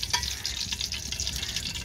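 Ghee and vegetables sizzle in a pan over a village wood fire, a steady close crackling hiss with a few sharper pops and scraping stirs.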